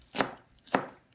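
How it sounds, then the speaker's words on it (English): A knife cuts cabbage into thin slices on a board, two crisp crunching chops about half a second apart, close and distinct, with no voices. "just cut up our cabbage into nice thin slices"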